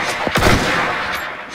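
A quick burst of automatic gunfire in a shooter video game, several sharp cracks in rapid succession up front, then fading into a noisy game background.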